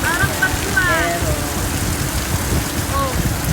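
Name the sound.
heavy rain pouring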